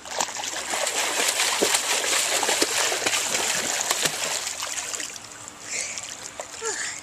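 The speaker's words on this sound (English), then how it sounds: "We are going to see Robbie swimming underwater" A child swimming underwater in a pool, with steady splashing and sloshing water that is close and fairly loud throughout, easing off near the end.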